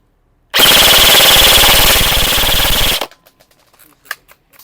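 An LT airsoft rifle fires a loud, close burst on full auto for about two and a half seconds, a rapid even rattle that stops abruptly, followed by a few faint clicks.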